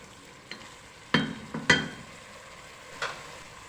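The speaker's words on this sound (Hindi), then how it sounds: "गोश्त को थोड़ा सा मैंने भून लिया है, तो अब इसमें डाल देते हैं सारे मसाले।" Spices dropped onto browned mutton frying in a pot for gosht tahari, a soft low sizzle broken by a few sharp clinks and scrapes of a spoon against the pan.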